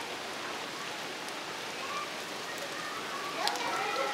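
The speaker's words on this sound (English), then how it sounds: "it's raining, of course, right now" Steady rain falls outdoors as a soft, continuous hiss of drops on surfaces, fairly faint and even throughout, with a small tap or splash near the end.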